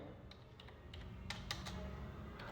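Quiet, close taps on a computer keyboard while a tax amount is entered in Excel, a few scattered keystrokes over a soft background hum.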